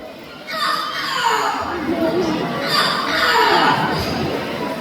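A parrot gives two loud, strained crowing calls imitating a rooster during a bird show, over a murmur of voices and background crowd noise.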